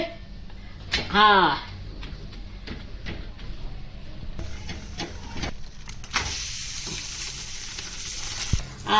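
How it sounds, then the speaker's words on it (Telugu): Vegetable jowar roti roasting on a hot pan, with steady sizzling and crackling, a few sharp clicks and a brief whirring sweep near the start, and a louder hiss toward the end. "రెండు వైపులా అలా కాల్చుకోవాలండి."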